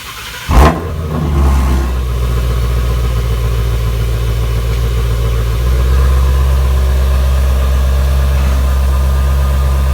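A Ford Shelby GT350 with an X-pipe exhaust fires up with a sharp, loud bark, then settles into a deep, steady idle rumble that continues close and unbroken.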